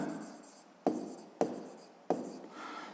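A pen scratches across paper while working a fifth-grade maths exercise, soft close strokes broken by three sharp taps or pen lifts, faint and with no talking.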